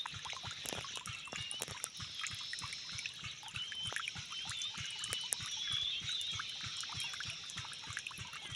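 Water trickles and dribbles steadily from a container, mixing liquid lemon plant medicine, with small dripping splashes throughout against faint outdoor background noise.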